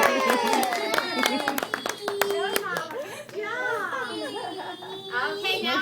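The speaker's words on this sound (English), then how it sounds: "Let's give Tyler a round of applause." Scattered, uneven hand claps for a young child at a preschool award ceremony, mixed with children's chatter and voices, fairly close and moderately loud.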